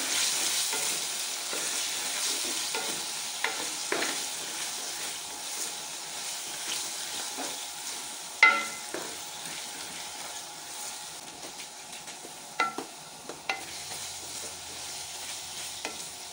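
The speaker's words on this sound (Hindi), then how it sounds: "अब मसाले की हम अच्छी तरह से भुनाई कर लेंगे।" Minced meat roasts in a pan with turmeric and Kashmiri chili powder, a continuous soft sizzle broken by the scrape of stirring and a few sharp spoon knocks against the pan, with no voices.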